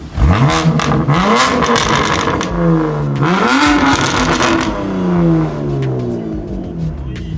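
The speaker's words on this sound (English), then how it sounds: "First time revving the car." A car engine revs hard, its pitch climbing and falling in repeated sweeping surges, loud and close, with a voice faintly underneath.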